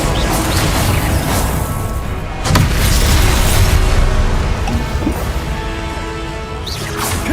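Repeated Confringo spell explosions in the video game Hogwarts Legacy: several loud booming blasts and crashes, each a sharp broadband burst followed by rumbling debris, fired in quick succession.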